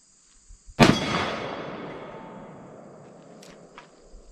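A single loud shot from a Taurus Tracker .44 Magnum revolver at an outdoor range, a sharp blast followed by a long fading echo, with a couple of faint distant pops afterward.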